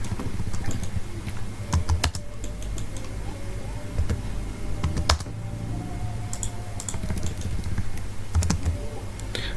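Someone types AutoCAD commands on a computer keyboard: scattered keystrokes and sharp clicks, close up, over a steady low room hum with no talking.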